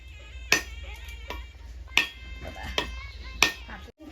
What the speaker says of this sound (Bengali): দেখো নারকেলটা এবার আমি ফাটিয়ে নেব